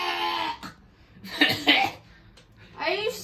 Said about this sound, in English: The one that coughs all over the board.